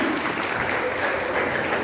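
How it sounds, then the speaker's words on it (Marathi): Guests at a Dohale jevan baby shower clap together in a steady, dense burst of applause that holds at even loudness throughout. "एकदा परत जोरात टाळ्या वाजवा"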